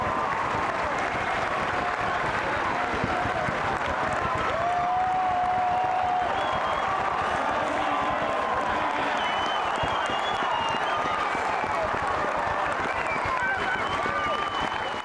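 A stadium crowd at an athletics track meet in Christchurch, New Zealand roars and applauds through a mile race sprint finish, loud and sustained, with a commentator talking over it.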